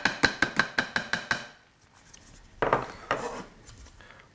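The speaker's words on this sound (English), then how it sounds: "I'll give it a little stir with my spatula" Risotto stirred with a spatula in a Thermomix bowl: a fast run of about eight bright knocking clicks, then quieter scraping strokes against the bowl, close up with no voices.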